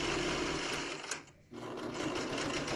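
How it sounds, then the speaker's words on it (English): A sewing machine runs steadily along a fabric edge for a steam mop pad, loud and close, pausing briefly mid-way for the reverse stitch before whirring on again, no talk. "you want to reverse stitch when you get to the edge to close it"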